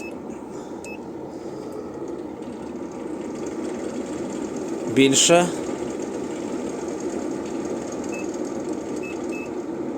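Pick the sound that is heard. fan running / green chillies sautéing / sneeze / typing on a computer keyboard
fan running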